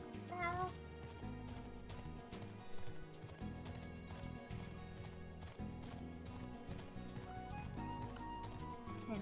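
A cat mount in Final Fantasy XIV gives a brief meow early on, mostly buried under continuous game music with steady beats, faint and mid-distance throughout.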